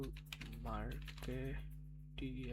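A computer keyboard is typed on quietly in quick, uneven taps, mostly under someone talking close by.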